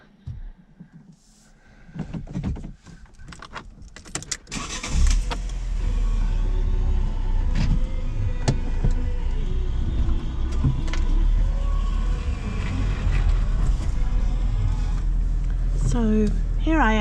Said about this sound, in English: driving around in my little Cinquecento in the village